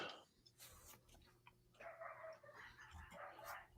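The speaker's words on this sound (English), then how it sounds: "the dogs are going psychotic again, and my wife's not stopping them." Dogs bark in another room of a house while a reloading press setup is underway, giving faint, muffled, repeated barking that carries on through the whole stretch with background noise.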